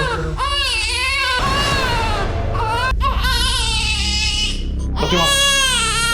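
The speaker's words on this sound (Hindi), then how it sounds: "घर में पिछले 4 घंटे से बच्चे की रोने की आवाज आ रही है" A baby cries loudly inside a locked house, close and continuous, with repeated wailing bursts separated by brief catches of breath.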